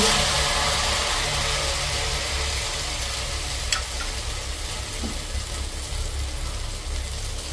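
Fish frying in boiling oil for a Jaffna home cooking meal, a loud continuous hissing sizzle with a couple of faint clinks, steady throughout.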